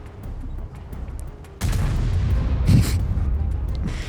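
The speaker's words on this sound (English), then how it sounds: "Why is the artillery not even stunning?" Artillery fire in a tank video game sounds as a sudden heavy boom that gives way to a sustained rumbling roar, with a few faint sharp pops beforehand.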